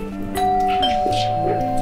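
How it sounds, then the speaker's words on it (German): A doorbell chimes a few clear tones, fairly close, with faint voices talking underneath. "Leute, es klingelt."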